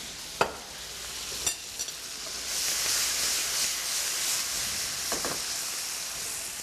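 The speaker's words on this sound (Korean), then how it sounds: "바로 옆에 함께 만들어 주셨던 야채를 부어 주시면 됩니다" Vegetables hit a hot pan and sizzling swells into a steady hiss, with a few sharp clinks of a utensil against the pan.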